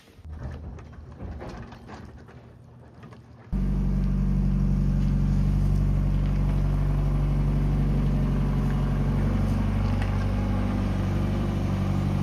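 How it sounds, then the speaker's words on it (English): Mazda Miata engine, unused for three or four months, cranks briefly and fires up, then settles into a steady, loud, close idle that runs with no talk over it. "I haven't turned this car on in probably like 3 or 4 months and fired right up."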